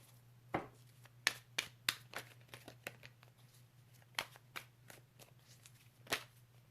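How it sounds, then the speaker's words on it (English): Tarot cards are gathered up and squared into a deck during a card reading, making soft, irregular taps and papery rustles. The sounds are close but quiet, with no talking. "Losing all my cards here. Get them squared away."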